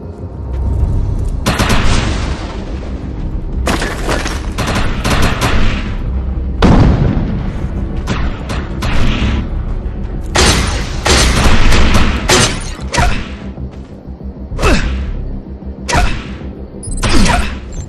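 Gunfire and heavy booms in the online multiplayer shooter Defiance on Xbox 360: repeated loud bursts of shots and blasts in irregular clusters over a constant rumbling game backdrop.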